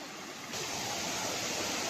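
The Mainsigila waterfall at a Mayurbhanj picnic spot rushes as a continuous, broad roar of falling water that grows louder partway through and then holds steady.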